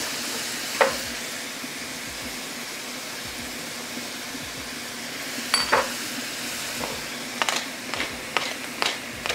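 Beets frying in oil in a pan for Ukrainian borscht, a steady sizzle running throughout with occasional sharp clinks and scrapes of stirring, sounding close and alone with no talk.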